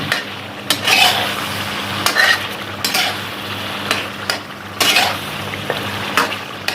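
Chicken karahi is stirred in a pan, a spoon scraping and clanking against the metal in repeated strokes over a low steady sizzle.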